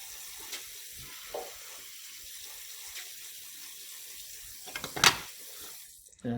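Tap water runs faintly into a sink while a lab well plate is rinsed, with soft splashes and a brief louder clatter and gush toward the end.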